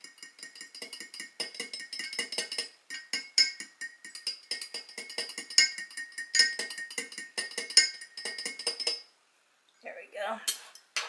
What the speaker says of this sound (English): I'm going to mix that egg up in here.